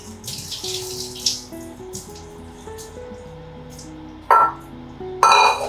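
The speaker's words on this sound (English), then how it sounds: "Okay, we're gonna drain out the water here." Water being drained off tofu in a kitchen, two short splashy bursts of pouring near the end with small clinks, while a soft melodic tune plays quietly underneath.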